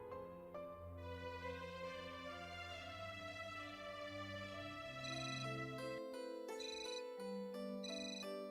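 A phone rings with a melodic electronic ringtone, a sequence of clear, bright tones that changes pitch and grows fuller partway through, playing alone without talk.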